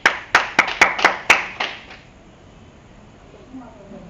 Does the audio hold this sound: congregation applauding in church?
yes